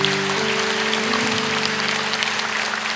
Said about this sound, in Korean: 우리 한번 박수로 한번 격려할까요?